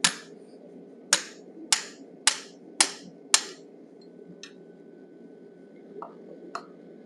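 A hammer strikes a 1/4 inch bob punch while forging a bison head, six sharp, ringing metallic blows at a steady pace, followed by a few lighter taps over a low background hum.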